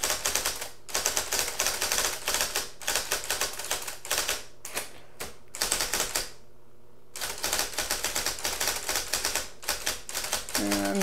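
An IBM Selectric electric typewriter typing: rapid, crisp bursts of key strikes in steady runs with brief pauses, the machine humming underneath, close and clear with no talking.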